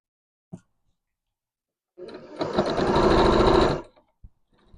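A sewing machine runs in one steady burst of close stitching, about two seconds long, as it sews slowly around curved seam lines on a blouse. Faint handling knocks come just before and after.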